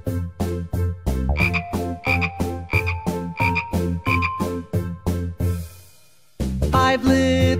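Loud, rhythmic frog croaks repeat in a steady run of about a dozen calls, with a brief gap near the end before the croaking resumes; no talking.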